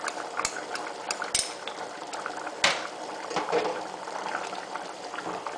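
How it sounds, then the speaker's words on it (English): Brown sugar being stirred into a simmering stew of dried plums and yellow split peas, a bubbling, liquid burble with scattered spoon scrapes and knocks against the pot, close by. "I'm going to stir that in."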